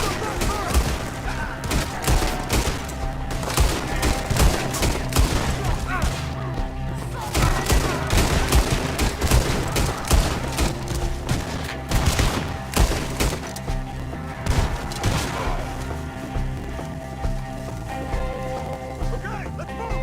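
Gunfire rattles through a shootout in the video game Red Dead Redemption 2: loud, dense volleys of shots in rapid bursts. Shouted voices come and go over the firing.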